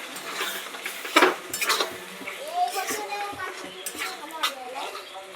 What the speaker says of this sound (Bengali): এবার ভালোভাবে মশলাটা কষাবো আমি